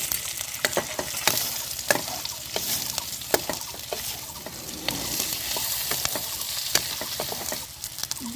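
Chopped tomato frying with onion in a hot pan for prawn do-peyaja, a dense, close sizzle broken by frequent clicking spatula strokes and scrapes that come in irregular bursts.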